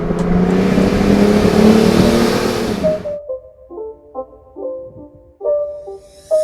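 The turbocharged Mercedes M103 engine of a W124 300CE coupe drones loudly as it drives for about three seconds, then cuts off and a short run of melodic tones follows.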